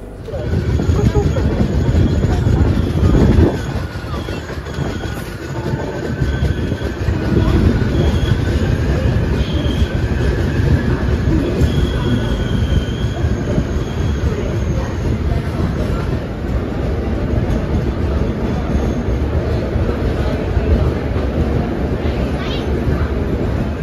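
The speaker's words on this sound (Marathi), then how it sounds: "त्यानंतर मग ही ट्रेन अमरावतीपर्यंत जाणार आहेच" A Pune–Amravati express train running near Jalgaon junction, a loud continuous rumble of wheels on rails with rattling carriages and faint squeals throughout, heard from inside the train, with a voice speaking over it.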